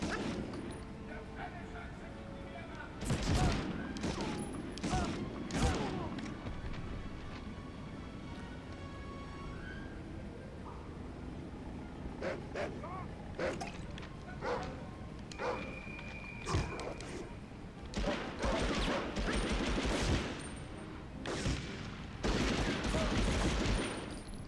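Rifle gunfire from a PS1 video game, bursts of shots scattered across a busy game soundscape with music and effects, some rapid volleys, moderately loud throughout.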